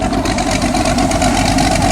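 Steady, loud idle from a twin-turbo Ram 1500 pickup engine, a continuous low rumble with a fine rhythmic pulse and no voices over it.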